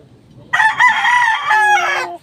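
A gamecock rooster crows loudly and close by, one long drawn-out call with a strained, wavering tone, followed by a brief trailing note.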